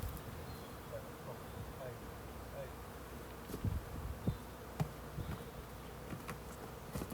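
Honeybees buzz around a hive in a faint, continuous drone, with a few soft knocks and rustles nearby.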